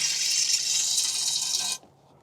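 Water poured steadily into the radiator of a 1961 Buick LeSabre, a close, bright splashing stream that stops abruptly near the end.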